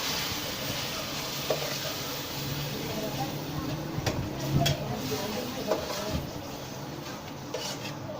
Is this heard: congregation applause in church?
no